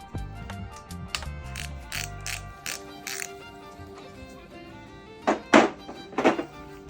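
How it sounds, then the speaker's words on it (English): Two bolts come out during a 172cc big bore kit install, heard as a close ratchet wrench clicking in rapid runs and followed by a few louder metallic clunks near the end. "Let me take those 2 bolts out."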